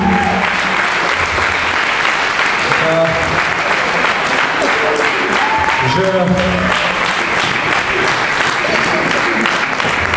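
An audience at an Elvis tribute show in a venue with a bar gives loud, sustained applause for the staff, with brief musical tones and crowd noise mixed in.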